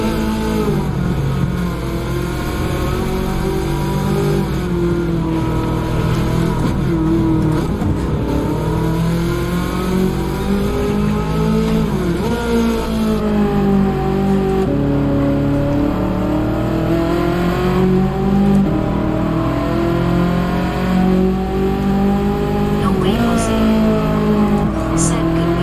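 Race car engine with an odd-sounding exhaust in Gran Turismo, droning loud and steady throughout with rising and falling revs as it accelerates and shifts, while a person talks over it.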